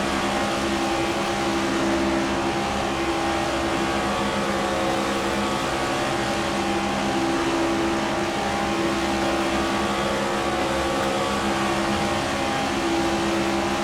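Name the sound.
stock cars driving down pit road, from the video game NASCAR 25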